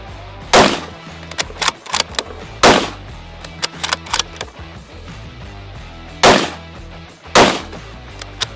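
Sako 90 rifle fired at an outdoor range, four sharp, loud shots spaced irregularly across the stretch, each with a brief echoing tail, with scattered smaller clicks and knocks between them.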